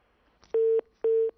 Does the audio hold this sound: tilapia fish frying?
no